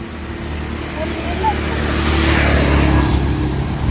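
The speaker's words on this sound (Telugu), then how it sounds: "ఇదే మన బండి, అశోక్ లేలాండ్ దోస్త్ ప్లస్." Ashok Leyland Dost Plus light truck driving along a road, its steady low engine drone and road rumble continuous and fairly loud, swelling slightly toward the end with no voices over it.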